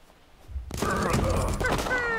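Rapid bursts of suppressing automatic gunfire in the video game Broken Lines, loud and dense after a quiet start, with thuds and metallic ringing layered through the sustained volley.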